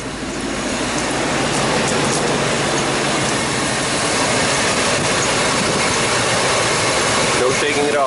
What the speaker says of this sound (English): This is how a V8 is supposed to sound.